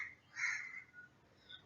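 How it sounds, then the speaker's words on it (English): Crows caw outside an open window near a lecture room, a couple of faint, harsh calls rising around the middle with another brief call at the end, distant and quiet against a low background hum. "I haven't kept windows shut while recording this lecture so that you can hear the sound of dogs and birds"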